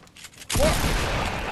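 Burst of gunfire in Fortnite on console, a sudden loud broadband blast that holds as sustained shooting noise for about a second after a quiet start.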